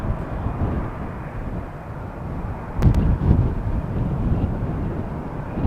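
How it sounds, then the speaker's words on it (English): A Vueling Airbus taxiing at Amsterdam Schiphol Airport gives off a steady, broad jet roar with a brief sharper surge partway through, heard alone without talk. "Airbus taxiing to the threshold."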